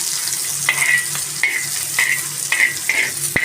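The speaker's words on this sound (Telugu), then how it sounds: "ఇది బాగా ఫ్రై అయ్యి ఇప్పుడు ఆనియన్స్ వేసేద్దాం" Onions frying in hot oil with a constant close sizzle, broken by regular light scrapes and taps of a spatula stirring them in the pan.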